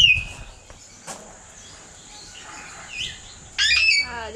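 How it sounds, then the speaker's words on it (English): Exotic parrots squawk and call at close range in a bird encounter, a few sharp shrieks and chirps scattered over a quiet background, ending in a loud burst of squawking. "so many birds."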